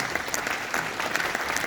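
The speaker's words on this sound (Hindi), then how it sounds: "तो आप सब लोग एक बार जोरदार ताली बजा के उनका स्वागत करें।" An audience at a trade union convention claps to welcome a guest, a dense, steady burst of applause heard up close for under two seconds.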